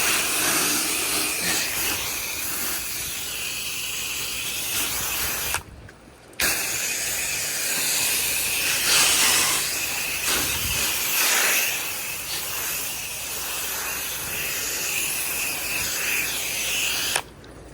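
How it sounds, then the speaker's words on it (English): A pressure washer sprays down a grill cover during outdoor teak furniture and house washing, giving a loud, steady jet hiss that cuts out briefly near six seconds and again at the very end. "Probably even wash down this grill cover real quick."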